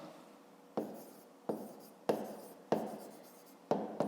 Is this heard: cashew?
no